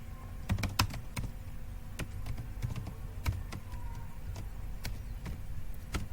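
HTML code being typed on a computer keyboard, close and clear, irregular clicky keystrokes in short bursts with pauses, over a low steady background hum.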